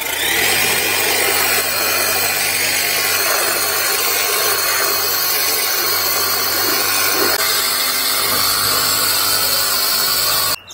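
A MRLIANCE 2x40V 960PSI cordless pressure washer blasts steadily into a car's wheel wells, a loud, continuous hissing spray with a motor hum underneath, running unbroken for about ten seconds before cutting off.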